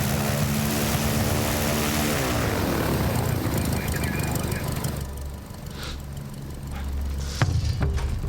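Propeller plane taking off, a loud close engine and airscrew drone rising in pitch as it powers up, then easing to a lower rumble with a few knocks and rattles, no talk.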